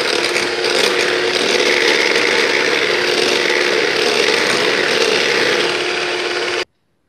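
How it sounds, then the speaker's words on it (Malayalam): A rotary crank sifter works flour for chocolate muffins, giving a steady, scratchy ratcheting and rasping that runs close and unbroken for several seconds, then stops abruptly. "ഇതും കൂടെ ഒന്ന് അരിക്കാം."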